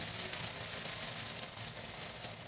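Spaghetti with meat sauce stir-fries dry in a home pan, giving a steady close sizzle with a faint crackle throughout and no voices.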